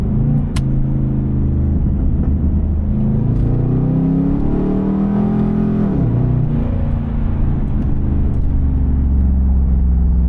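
A Pontiac G8 GT's V8 rumbles deeply while driving through the streets at night, with engine pitch rising and falling through a downshift, a loud, steady drone heard from inside the cabin.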